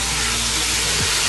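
Meat frying in hot oil for homemade lagman, a dense, loud, continuous sizzling hiss close up, with no talking over it.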